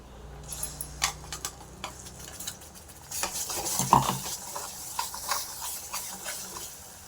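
Ground tomato and onion masala for paneer gravy fries in a pan, with soft sizzling and intermittent spoon scrapes and clinks against the pan, quiet and close.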